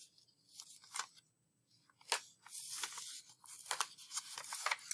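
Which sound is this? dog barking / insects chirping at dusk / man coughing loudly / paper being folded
paper being folded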